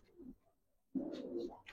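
Two pigeons, a big male and a female, coo close by, a faint soft coo first, then after a short pause a louder run of low rolling coos that continues to the end.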